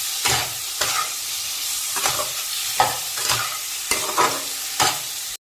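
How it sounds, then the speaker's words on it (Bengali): Previously fried potatoes being stirred in a hot pan for egg curry, with a steady sizzle broken by about seven rhythmic scraping strokes of a spoon, close and fairly loud. "ভেজে রাখা আলুগুলো দিয়ে দিচ্ছি, ভালো করে কষিয়ে নেব এটাকে"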